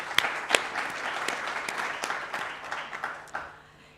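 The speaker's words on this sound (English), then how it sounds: "I want you to give them a round of applause for their great work." An audience claps for a few seconds, a dense patter of hands with some louder individual claps, fading out at the end.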